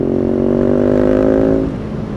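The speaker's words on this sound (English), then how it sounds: "The exhaust notes takes a little getting used to, but I can dig it." A BMW R nineT motorcycle engine and exhaust hum with a steady low throb close by, then the note drops and settles as the revs fall away.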